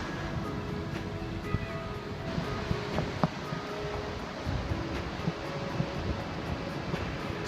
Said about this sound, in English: Must be quite windy.